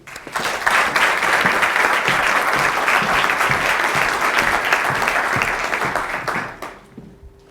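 A conference audience at the 2016 ADLIB event at W&L applauds to welcome a speaker, loud sustained clapping from a full room that holds steady for about six seconds, then tapers off and fades out.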